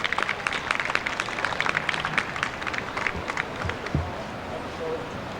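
An audience applauds an event coordinator at the official opening of a Caribbean festival in 1997, a steady patter of clapping that fades out, with voices murmuring underneath.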